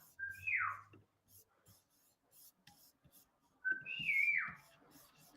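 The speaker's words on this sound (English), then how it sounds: "My sister's she's whistling" A woman whistles two rising-then-falling swooping notes, each about a second long and a few seconds apart, fairly close and clear against a quiet room with faint low background noise.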